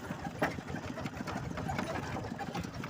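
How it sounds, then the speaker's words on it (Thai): A walking tractor engine running steadily at close range, a continuous mid-pitched chugging drone without pauses or speech. "ขี่รถไถไป"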